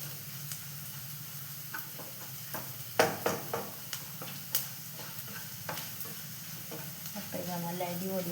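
Vegetables for idli upma sauté in a pan with a soft steady sizzle, punctuated by scattered spoon scrapes and stirring knocks, heard close and fairly quiet with no speech.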